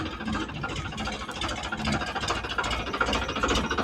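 A tractor engine idles nearby with a steady, rough mid-to-low rumble and slight knocking vibration, running without pause while the tractor is hitched to a blower attachment.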